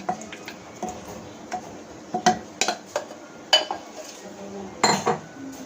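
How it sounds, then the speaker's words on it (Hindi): Spoon clinks and metallic scrapes against a handi pot ring out as chicken korma gravy is layered onto rice, in irregular close taps and knocks. "फिर हम ये डाल देंगे चिकन कौरमा जो हमने बना लिया था ग्रेवी।"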